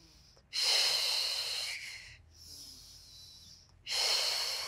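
Strong, airy breaths during a Pilates hip circle exercise, with a long loud exhale, a softer breath after a brief pause, then another loud exhale, all close and without talk.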